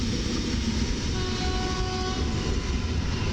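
EN57 electric commuter train passing through Warszawa Zachodnia station at night, a loud continuous rumble of wheels and motors close by, with a faint steady tone in the middle.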